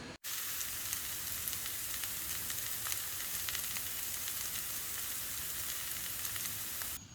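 Onions fry in a Cuisinart Chef's Classic 14-inch skillet, producing a steady, faint sizzle and crackle that continues evenly without talk after a brief cut at the start.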